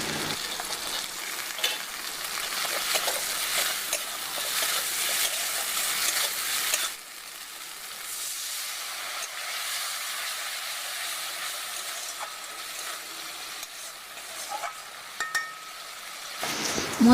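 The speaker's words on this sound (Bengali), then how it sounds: "জিরে বাটা দিয়ে আরও কিছুক্ষণ মশলাটাকে কষে নেব।" Cumin paste sautéing with spice masala in a pan for a prawn and taro-leaf curry, a steady close sizzle and frying hiss with light stirring scrapes; the hiss drops noticeably partway through, then continues more softly.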